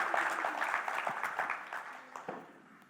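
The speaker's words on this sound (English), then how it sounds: "Round of applause, guys." Modest applause from an audience at a photography expo talk, a scatter of claps that fades gradually over a few seconds.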